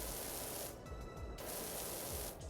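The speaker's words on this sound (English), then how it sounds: "It makes different noises when you spray it on different textures." A pressure washer in PowerWash Simulator spraying across different textures, a loud continuous hissing spray whose tone shifts and briefly thins as it moves between surfaces.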